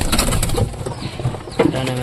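Pigeons being fed mustard seed and grain coo close by in soft, repeated throaty calls, with a few rustling sounds between the calls.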